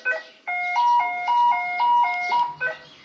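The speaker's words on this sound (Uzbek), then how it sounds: "mashinani qulflaganimizda ovoz bilan qulflab, ochganimizda ovoz bilan ochyapti" Remote lock and unlock chirps from an aftermarket car alarm on a Chevrolet Cobalt, a series of loud, close electronic beeps in a rising and falling pattern, with no talk.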